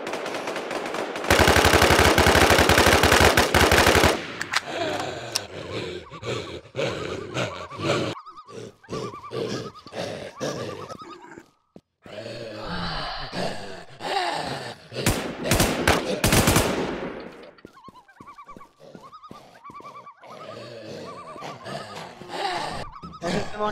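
Gunfire in the video game Infestation on an airport map rattles out in loud, rapid automatic bursts with short single shots between them, while players' voices come and go around the shooting.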